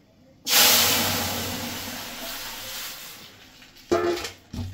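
Mustard paste hits hot oil with a sudden loud hissing sizzle that slowly fades, then flares up again briefly near the end, close and without any talking.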